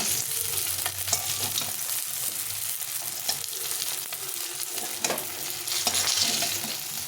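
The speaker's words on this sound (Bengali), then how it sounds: "লাল লাল করে তাকে ভেজে নিয়েছি।" Fish pieces frying until reddish-brown in oil, a steady close crackling sizzle with intermittent scrapes and taps of a spatula stirring them in the pan.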